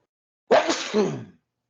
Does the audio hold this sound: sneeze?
yes